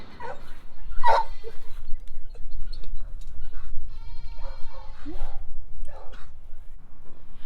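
A Nigerian Dwarf doe, a pregnant goat, gives several loud, close bleats and short whimpering cries in bursts across the clip, with low rumbling background noise beneath.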